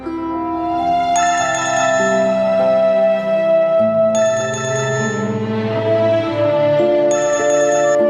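A mobile phone ringtone plays a bright looping electronic melody that repeats over several cycles, clear and uninterrupted as the call goes unanswered, with no voices.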